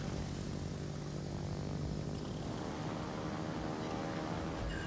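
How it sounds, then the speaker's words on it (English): Propeller torpedo bombers take off in a naval combat video game, producing a constant, dense drone of aircraft engines that holds steady without any voices. "Let's get my torpedo bombers up in the air."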